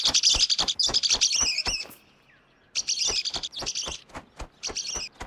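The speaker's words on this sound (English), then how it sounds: "You're the bird that sounds like the wheel that needs to get greased." Squeaky, repeated bird calls like an ungreased wheel from the hunting game The Hunter: Call of the Wild, sharp chirping bursts in quick series, a short pause, then more bursts, close and clear.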